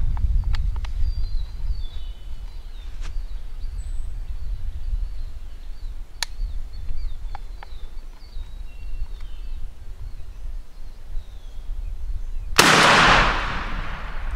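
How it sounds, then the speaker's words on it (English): A Mossberg 500 shotgun fires once at a 40-yard pattern target, a single loud close blast near the end after a quiet outdoor stretch with faint birds and small ticks. "we're going to get this gun shot and see how tight our pattern is"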